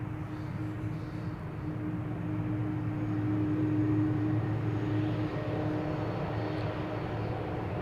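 Transavia airliner in Peter Pan livery departing Amsterdam Schiphol for Lanzarote, heard as a moderately loud, continuous engine drone with a steady low hum, distant and unbroken, with no talking.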